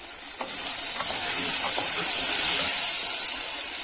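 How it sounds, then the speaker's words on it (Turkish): Ingredients sizzle and hiss steadily in a hot pan at the start of a borlotti bean dish, a loud, close, continuous frying sound with a few faint stirring scrapes. "İlk başta bunları güzelce kavuruyorum."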